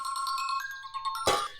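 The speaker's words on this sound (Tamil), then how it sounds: "ஃபோன் அடிக்குதுல, எடுத்துட்டு வாயேன்" A mobile phone ringtone chimes in a home, a bright repeating melodic tune sounding steadily for over a second before a sudden broadband burst cuts in near the end.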